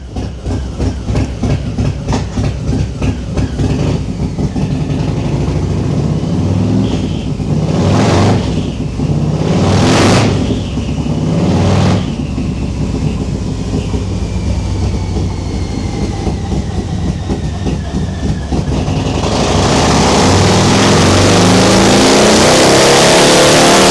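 A Harley-Davidson M8 Softail motorcycle with an aftermarket cam runs on a dyno, its engine roaring loud and steady throughout, with several sharp revving surges midway and a fuller, harder pull near the end.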